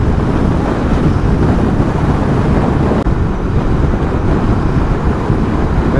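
Heavy wind buffets the rider of a 2020 Benelli Imperiale 400 motorcycle on a test ride, a loud, constant low roar of wind noise with no talking.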